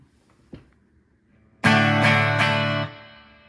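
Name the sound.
guitar through amp with reverb effect turned on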